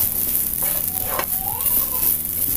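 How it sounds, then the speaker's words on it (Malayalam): Banana and grated coconut sauté over a high flame, a loud, dense sizzle running throughout with a faint scrape of stirring in the middle. "ഞാൻ ഹൈ ഫ്ലെയിമിൽ വെച്ചിട്ടാണ് വഴറ്റിയെടുക്കുന്നത്"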